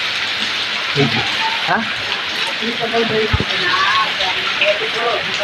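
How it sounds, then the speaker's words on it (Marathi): Steady rain hisses throughout at Kunkeshwar temple during Ganesh Chaturthi, with voices talking over the constant patter. "पाऊस पडता"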